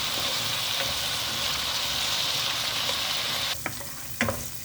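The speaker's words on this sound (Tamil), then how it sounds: "வெங்காயம் இஞ்சி பூண்டு அதெல்லாம் கொஞ்சம் வதங்கிட்டோன்னே" Onion with blended ginger-garlic paste sautés in a pan for chicken biryani, giving a steady, close sizzle that runs throughout, with a few sharp stirring scrapes near the end.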